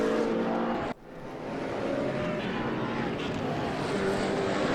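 McLaren MP4-12C GT3 race car in the GTR3 racing game at Zandvoort, a steady loud engine roar with a brief dip near the start before the drone resumes, sustained and close throughout.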